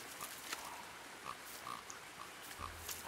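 Pig grunts from a farm animal in the video game The Last Campfire, a few short soft grunts spaced irregularly over a quiet ambient game background.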